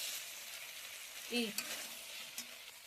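Chili chicken with soy sauce, chili sauce and tomato sauce stirred in a hot pan, giving a steady low sizzle with a few brief scraping stirs and soft clinks near the middle.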